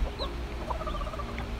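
A broody hen that tends her chicks gives soft, repeated clucks close by, short low calls in an uneven rhythm against faint background noise.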